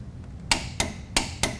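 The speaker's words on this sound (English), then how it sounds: "I'm going to use my torque wrench gun, and we're going to set the specification on all 3 of those bolts" A torque wrench gun tightening brake caliper retaining bolts on a 2002 Chevy Suburban during a hub install, four sharp, close metallic clicks in quick succession against a low background hum.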